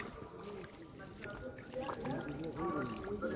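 Water is poured and splashed over a freshly caught fish as it is washed, a soft, close trickle and slosh with voices talking over it.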